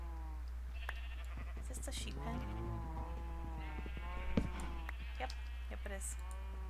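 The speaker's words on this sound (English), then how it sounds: "Is this the sheep pen?" Sheep in a Minecraft barn pen bleat repeatedly, several overlapping calls close by over a steady low background hum, with no talk.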